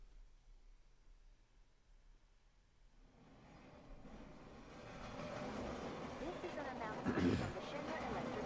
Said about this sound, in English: Ain't no stopping this train we're on.